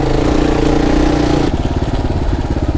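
An adventure motorcycle engine runs loud and near during a hill climb, a steady roar that drops into a lower, pulsing rev halfway through.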